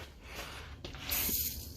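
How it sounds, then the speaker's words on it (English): Penetrating spray hisses from an aerosol can onto a bolt on a 1969 Mustang fastback spindle, a brief close burst of spray in the second half after some faint handling noise, with no talking. "penetrating spray"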